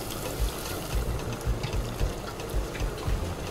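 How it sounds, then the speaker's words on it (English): Water being poured into a pot of bean soup, a steady gurgling trickle with soft rhythmic splashes, close and fairly loud, with no talking. "We have to put some water into it."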